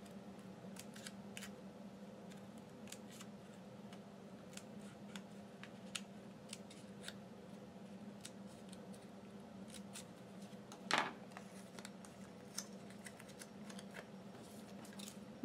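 Scissors snip small bits from a plastic bottle in quiet, crisp, irregular clicks over a low room hum, with one louder snip near the end.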